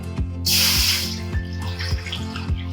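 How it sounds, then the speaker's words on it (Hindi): Water gushes from a tap into a jug for cooking mutton paya, a loud close rushing stream starting abruptly, with a steady rhythmic background thumping underneath. "और एक जग जो है हम पानी लेंगे।"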